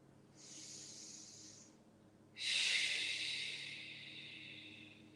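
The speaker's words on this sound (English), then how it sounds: "Breathe 3 breaths here." Two slow breaths during a held yoga pose, a softer inhale and then a longer, stronger airy exhale, close and quiet with no talking.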